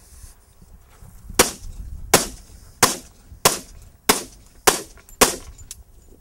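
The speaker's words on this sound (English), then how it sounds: "We're going to fire against this right at point blank range. We're going to empty the whole magazine." .40 caliber pistol fires seven sharp, loud shots at point-blank range into a ballistic couch panel, evenly spaced about two-thirds of a second apart, each crack followed by a brief decaying echo, with no talking.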